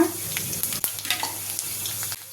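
Urad dal and cumin seeds hit hot oil in a pan while cooking an onion tomato pachadi, giving a soft, steady crackle and sizzle with a few sharp pops and light stirring taps.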